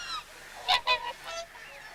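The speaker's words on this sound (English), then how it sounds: "Each morning, the swans leave the safety of the centre's lagoon to feed out on the surrounding fields." Whooper swans call with nasal, bugling honks, a couple of louder close calls amid fainter ones, as the flock leaves a wetland reserve lagoon to feed on surrounding fields.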